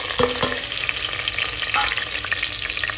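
Sliced onion hits hot oil with whole spices in a pot for mutton pulao, giving a loud, steady sizzle with a few sharp crackles and a clink of a spoon near the start.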